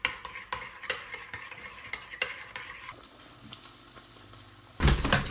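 Eggs are beaten for an omelette with sharp, rhythmic utensil strikes against a bowl, clattering close and irregular, easing to a softer stirring swish before a sudden louder burst of clatter near the end.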